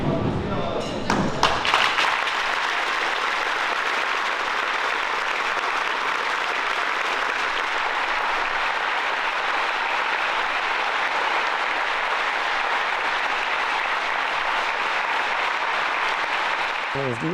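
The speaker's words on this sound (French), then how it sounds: "On voulait simplement respecter une minute d'applaudissement si on voulait bien vous lever." Audience applause as a minute-long tribute at a Paris Basketball U18 team gathering, sustained dense clapping after a brief spoken lead-in and thuds, filling the room steadily throughout.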